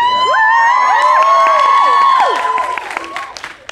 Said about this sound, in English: the louder you cheer, the more they will hear